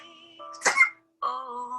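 A single sharp sneeze bursts out between stretches of sung music, brief and fairly close, over a steady sustained melody.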